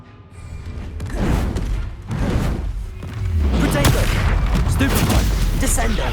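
Confringo spell blasts in the video game Hogwarts Legacy, a run of loud booming impacts and crackling bursts that build into a sustained roar of combat noise, with voices calling out spells over the top.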